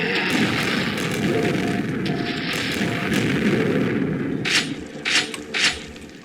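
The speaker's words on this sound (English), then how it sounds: "As I almost blew myself up again. I gotta keep reminding myself to be careful with this grenade launcher." Grenade launcher blasts in the game Quake, a dense rumbling boom and mechanical clatter followed by three sharp bursts near the end, loud and close with no talk.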